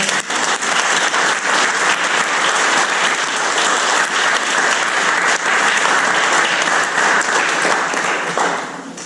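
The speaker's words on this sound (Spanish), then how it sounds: "Denle un aplauso al Señor." A church congregation at a Spanish-language service claps together in loud, dense applause that holds steady for about nine seconds before tapering off at the end.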